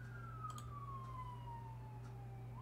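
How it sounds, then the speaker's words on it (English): A siren wails steadily with a slowly falling pitch, passing at a moderate distance over a constant low engine hum. "Sirens going by."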